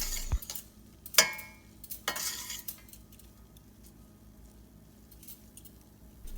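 Lemon rice with lime juice being stirred in a pan over a very low flame, a few sharp spoon scrapes and clinks against the metal early on, then quieter faint stirring and a soft sizzle.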